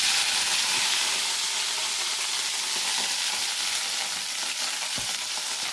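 Washed nalleru (veldt grape) stems frying in hot oil in a pot, giving a loud, steady broadband sizzle that runs unbroken throughout, with a faint clack near the end.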